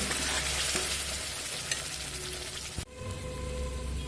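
Chicken and spice masala being sautéed over a medium flame, a steady close sizzle with occasional stirring sounds, cut short by a sudden drop to a quieter frying hiss.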